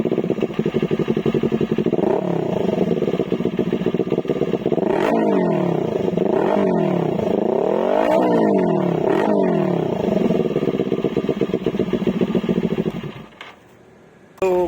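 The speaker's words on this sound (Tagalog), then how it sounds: "na-soundcheck na natin yung tunog ng Orion pipe na nakakabit sa Ninja 400" Kawasaki Ninja 400 motorcycle fitted with an Orion exhaust pipe, revving up and down repeatedly with a loud, close engine note before cutting off near the end, with no talking.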